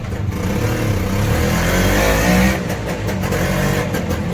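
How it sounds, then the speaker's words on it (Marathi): A loud, rough-sounding auto rickshaw engine revs close by on the way to the Mhasa fair at Murbad, surging to a peak in the middle before settling back to a steady drone. "रिक्षाचा साऊंड फाटलाय"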